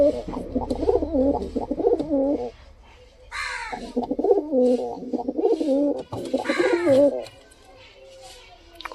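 Pigeons, including giribaz birds, cooing up close in repeated throaty rolling phrases with short pauses between them, loud and clear.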